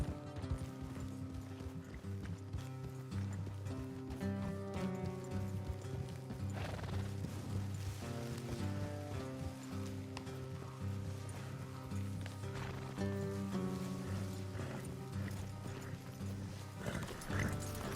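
Horses gallop in Red Dead Redemption 2 with steady, rhythmic hoofbeats and several loud whinnies and neighs, set against a backdrop of game music.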